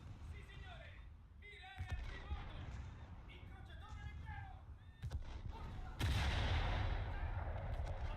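Naval guns from the ship Moffat in War Thunder, distant booming shots amid engine rumble and game alert tones, with a sharp loud blast near the end under a talking voice.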